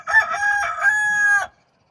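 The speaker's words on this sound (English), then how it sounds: "And Hop-Along Cassie, which we thought was a hen, just crowed." A single rooster crows loudly and close by, one long drawn-out call with a rising start that cuts off abruptly, followed by silence.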